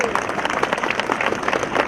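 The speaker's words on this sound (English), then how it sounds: "So you can give yourself another round of applause for that." Continuous applause from an audience at a cadet pass-in-review ceremony, steady dense clapping throughout with crowd noise and no break.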